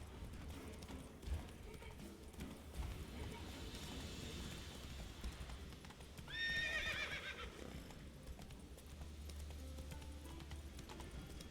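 Roach, Geralt's horse in The Witcher 3: Wild Hunt, clip-clops steadily through the game world and gives a loud whinny partway through, with background game ambience throughout.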